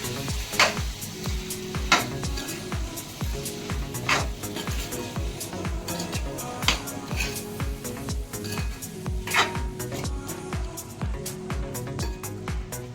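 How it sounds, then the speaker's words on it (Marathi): A spoon stirs a green peas aamti mixture in a pan, giving steady rhythmic scraping strokes against the metal, close and fairly loud, with a gentle sizzle underneath and no talk. "पुन्हा एकदा सगळं मिश्रण आपण ढवळून घेऊया व्यवस्थित"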